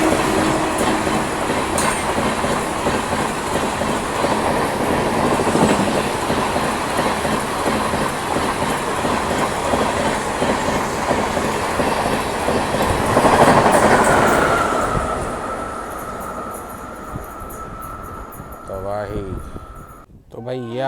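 An Amrit Bharat Express train runs through a station without stopping, a loud close rumble with wheel clatter that fades after about fifteen seconds and ends with brief squeals, while someone talks over it.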